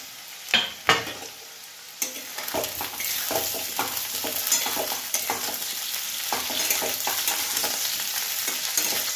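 Potatoes and eggplant fry together in oil with a continuous crackling sizzle, punctuated by sharp scraping clicks from stirring, loudest near the start and then settling into a steady hiss.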